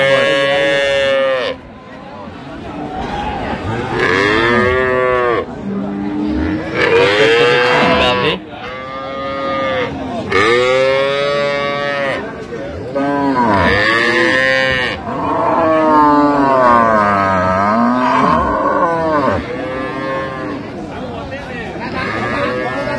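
Dairy cows and calves low repeatedly at a busy village cattle market in Ambari, Dinajpur, with loud, close moos following one after another over steady crowd chatter and nearby voices.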